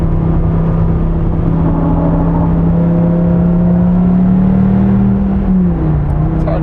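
A 2015 Dodge Viper T/A roars from inside the cabin as it drives, a loud, steady low engine drone with a whirring hum. Near the end the pitch dips slightly as the car shifts or slows.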